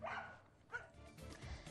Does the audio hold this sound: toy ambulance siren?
no